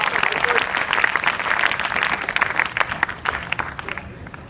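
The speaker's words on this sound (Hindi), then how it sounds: "तो ताली बजाओ।" A school audience claps steadily for several seconds, the applause dense and even before gradually thinning out.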